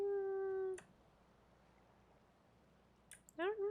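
A moon kitty cat in a video game gives a sustained, steady meow, followed after a quiet pause by a brief click and a second rising, wavering meow, fairly faint.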